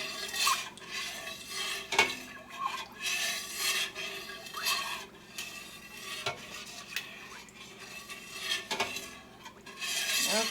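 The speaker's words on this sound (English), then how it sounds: "Then I give it a really good stir." A milk and rennet mixture for cream cheese stirred in a pot, with soft repeated scraping and swirling strokes of a utensil against the metal, close and quiet.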